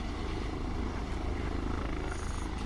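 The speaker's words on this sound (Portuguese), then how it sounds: "Isso é um avião, é um helicóptero." A helicopter flies overhead near a US air base in Okinawa, Japan, its rotor a loud, steady droning roar with no talk.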